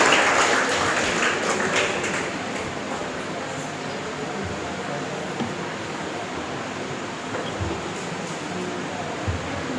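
An audience at a school confidence-building program claps for a third-prize winner, with the applause loudest at first, then thinning into a steady background hum.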